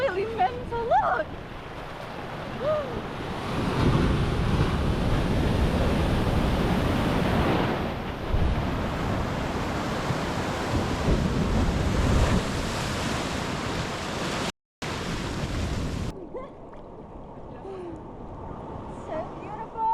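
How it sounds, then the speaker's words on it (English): Powerful ocean waves crash and churn along the Nusa Penida shore, a loud, continuous roar of surf with wind buffeting the microphone, briefly cutting out before the wash continues more softly; a voice speaks over it. "The waves are absolutely mental,"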